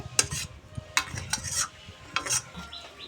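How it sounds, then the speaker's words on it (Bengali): Boiled masoor lentils being tipped from a pan onto a metal plate: several close scraping pours and spoon knocks in uneven bursts, wet slops between, no talk. "ডালটা ঢেলে নিলাম এই থালাতে"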